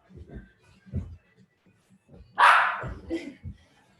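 A dog gives one loud, sharp bark close by during a home bodyweight workout, with soft thuds and movement around it.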